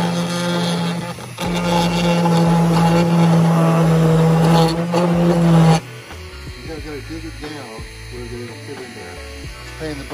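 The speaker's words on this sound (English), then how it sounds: "you have to take the Dremel" A Dremel rotary tool whines steadily as it trims a tail light fitting on a Volkswagen Baja, loud and close for several seconds before cutting off, followed by softer clicking and handling noises.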